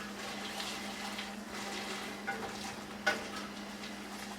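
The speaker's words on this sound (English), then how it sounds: "I'm just going to mix the onions all in" Onions stirred in melted butter in a pan while cooking Persian rice, a soft sizzle and gentle scraping under a steady hum, with one brief utensil tap near the end.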